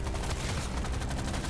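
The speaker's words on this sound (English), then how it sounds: "It is offensive how much damage this explosion grenade does." Rapid explosion grenade blasts and gunfire pound continuously in Deep Rock Galactic Survivors, a short, loud stretch of overlapping bursts with no pause.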